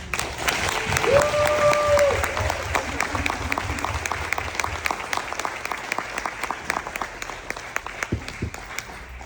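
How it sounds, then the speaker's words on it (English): A crowd claps in sustained applause at a human trafficking symposium panel, loudest early on with a brief whistle, then gradually thinning out. "round of applause for them"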